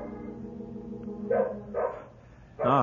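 Sled dogs bark on a snowy wilderness trail in a radio drama, a few short separated barks standing out over a steady low drone, with one sharper, louder bark at the end.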